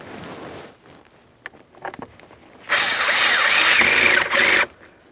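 A power driver tightens a mounting bolt on the wiper switch of a 2015-2025 Ford Transit 250: a few faint clicks and taps, then one loud, close whirring run of about two seconds that stops abruptly.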